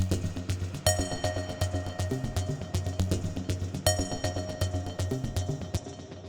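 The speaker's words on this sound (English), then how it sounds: "Next up is the resampled recording I made from DYAD" An unprocessed resampled recording from a DYAD synth plays alone, a dense looping pattern of rhythmic low pulses under bright metallic accents that strike twice, hypnotic techno in steady repeating bars.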